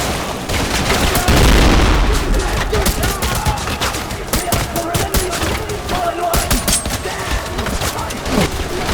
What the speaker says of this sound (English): Oh, I threw a grenade at myself.